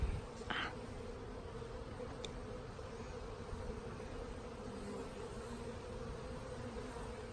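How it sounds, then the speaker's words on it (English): Honeybees swarm around a small nucleus hive with a steady, low buzzing hum that carries on for several seconds. A few individual bees pass close by, and there is no talking. "Is there a bee on my head?"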